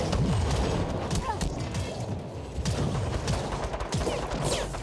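Gunfire in the shooter game Firefall, a dense run of rapid shots and bursts, steady and fairly close, with a little talk mixed in.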